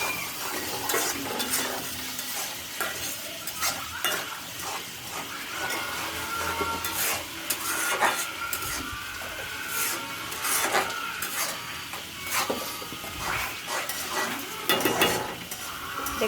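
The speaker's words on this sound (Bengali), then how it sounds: "এখন ভালো মতো নেড়ে চেড়ে আমি একটু কষিয়ে নিই।" A spoon stirs and scrapes spiced prawn curry in a hot pan, with steady rubbing and scraping strokes over a soft continuous sizzle, close and moderately loud, with no talk.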